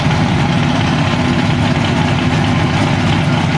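Drag racing cars stage at the start line at Richmond Dragway, including a Chevy Camaro, with a loud, dense engine rumble idling close by and no talking.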